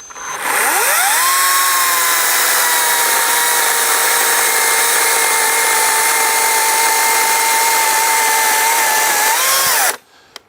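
A Greenworks battery-powered chainsaw spins up with a rising whine, then holds a loud, steady high-pitched motor and chain drone for about nine seconds before winding down and cutting off.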